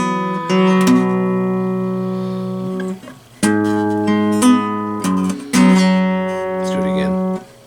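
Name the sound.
guitar part played slowly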